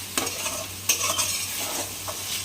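Prawns fry in a pan of oil with a soft, even sizzle, cut through by several quick scraping stirs of a utensil against the metal.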